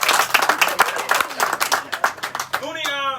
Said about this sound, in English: Give him a round of applause, big Mooney.